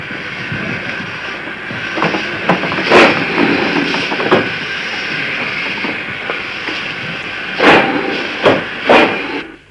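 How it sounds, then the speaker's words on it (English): An old steam locomotive running along a preserved railway line, a continuous rumbling roll with hissing steam and rhythmic clattering wheel beats on the rails, loud and close with no voices. "odd vehicles appeared, old steam engines"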